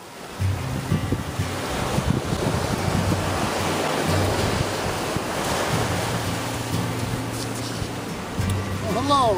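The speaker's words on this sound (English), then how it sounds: "I'm here by the sea" Surf rolling in along the seashore in Nova Scotia on an April morning, a steady wash of waves mixed with gusty wind buffeting the microphone, loud and continuous throughout.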